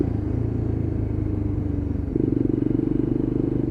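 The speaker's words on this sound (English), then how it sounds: "So should I need to downshift, I can get some engine braking on instantly, like I've just done." A Lexmoto LXR Euro 5 motorcycle engine drones steadily from up close, then its pitch jumps and rises as the bike downshifts and engine braking takes hold.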